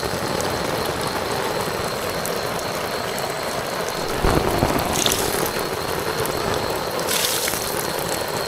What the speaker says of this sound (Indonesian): Deras hujannya lebat.